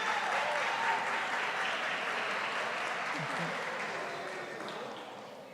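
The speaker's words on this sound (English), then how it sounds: "Please give yourselves a round of applause for how wonderful you look" Dense, steady applause from a crowd at an awards ceremony fills the room, holding strong before gradually fading toward the end.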